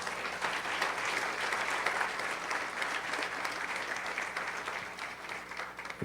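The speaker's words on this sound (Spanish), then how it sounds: "Le da un aplauso al Señor" A church congregation applauding in praise, steady dense clapping heard slightly distant and fairly soft, sustained evenly for around six seconds.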